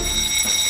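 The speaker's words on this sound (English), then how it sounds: "set the alarm on by pressing the alarm button on the hydrant box" Building fire alarm from a workplace safety induction, a loud steady electronic tone holding without pause, brief and alone.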